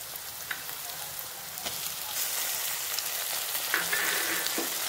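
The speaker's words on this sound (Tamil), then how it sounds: "தக்காளி சேர்த்து நல்லா கிளறி விட்டுக்கலாம்" Chopped tomatoes sauté with softened onions in a pan for a Chettinad prawn fry, giving a steady close sizzle with scraping stirs that grow a little louder partway through, no talk.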